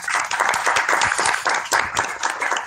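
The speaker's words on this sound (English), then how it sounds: "let's give them another round of applause" Applause for teachers at a school board of education meeting, a steady wash of clapping from a room of people lasting the whole moment, fairly close and dense with no voices over it.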